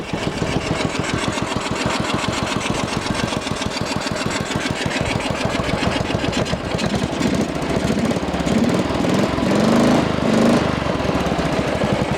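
A small Briggs flathead engine with a 26mm Mikuni carburetor idles close by with a fast, steady chugging putter, loud and continuous, pitch wavering slightly near the end.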